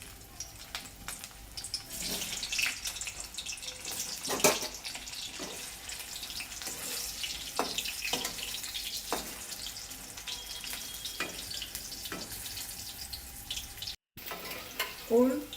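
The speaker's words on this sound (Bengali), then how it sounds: "ওলগুলো একটু ভেজে নেব হালকা" Elephant foot yam pieces frying lightly in hot oil, a soft, faint sizzle with scattered clinks and scraping of a utensil in the pan.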